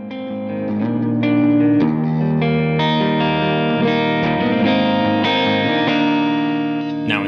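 A PJ Eggle electric guitar on its neck humbucker pickup plays a series of warm, sustained notes and chords, ringing out steadily with a smooth, rounded tone.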